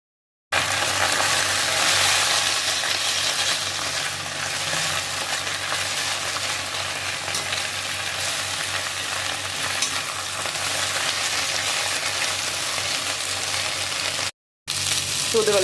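Thuthuvalai leaves sautéing in a pan for soup, a steady close sizzle with light stirring scrapes throughout, no voices, ending in a brief cut.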